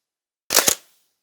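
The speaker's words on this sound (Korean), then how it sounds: "이것도 125분의 1초로 할 테니까 한번 셔터 소리를 한번 들어보시죠." A single crisp double-clack of a 35mm SLR camera shutter firing at 1/125 second, close and sharp, surrounded by silence.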